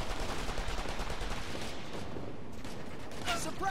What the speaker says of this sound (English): Firing. Reloading. They got our range!